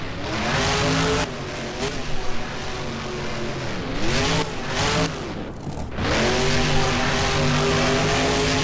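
Monster truck in a BeamNG freestyle arena doing a donut, its engine revving up and down in repeated surges with rising and falling pitch, loud and close, with brief tire scrubbing between the revs.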